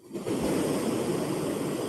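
Steady water-like white noise from a sleep track, a broad, even rushing wash resembling surf that swells in quickly and then holds at a constant level.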